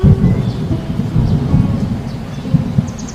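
Continuous rain with low rolling thunder rumbling throughout, a steady loud storm with no voices.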